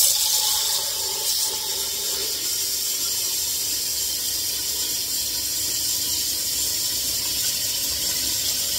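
Water pouring steadily into a cooking pot over pork neck bones, a continuous close hissing splash with a slightly louder start, no talk.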